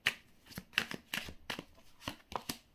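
Tarot cards shuffled and drawn by hand: a string of crisp, papery riffles and snaps, roughly six quick bursts in under three seconds, close and clear with no talking.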